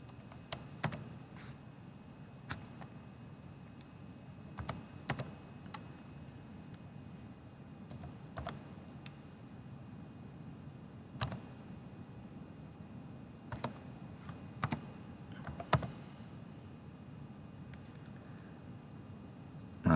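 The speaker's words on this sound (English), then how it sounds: "So that's what I will be typing." Typing on a computer keyboard, a steady run of soft clicks with occasional sharper keystrokes spaced irregularly over a low room hum, close and quiet with no talking.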